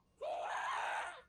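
A ghast from the video game Minecraft lets out one loud, sustained wailing scream lasting about a second, rising sharply at the start and fading out at the end, with no talk over it.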